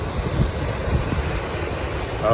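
Ocean waves and surf wash continuously along the shore at Easter Island (Rapa Nui), a broad rushing roar mixed with gusty wind buffeting the microphone.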